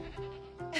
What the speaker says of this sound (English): There's another goat?